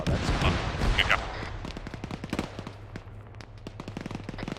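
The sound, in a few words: gunfire in the video game ArmA 3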